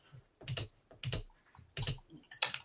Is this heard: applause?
no